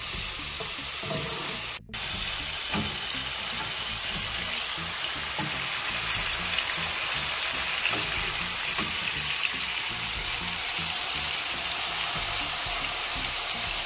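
Meat browns over high heat in a Ninja Foodi Possible Pan, giving a steady, close sizzle and crackle of frying that runs unbroken except for one brief dip near the start.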